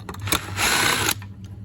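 Screws being backed out of an amplifier chassis with a power screwdriver, a short whirring burst of about half a second between faint clicks and handling noise, close and fairly quiet.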